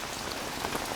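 Steady rain pattering on a hard surface, a dense continuous hiss of drops with no voices.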